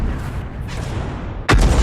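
A tank's main gun fires once in a tank video game, a single sudden, loud, close boom with a heavy low-end thump that comes near the end, after a steady low rumble of ambient game noise. No one talks.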